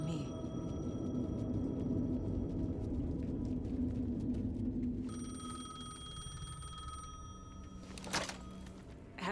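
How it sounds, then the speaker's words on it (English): Payphone ringing in the video game Alan Wake 2, a faint electronic ring buried under a dense low rumbling ambience, with a voice speaking over it. "The payphone was ringing."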